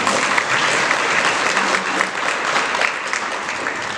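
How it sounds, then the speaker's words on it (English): Audience at a community town hall for a bridge park project applauds steadily, a dense, sustained wash of clapping that stays loud and even throughout. "deserves a round of applause"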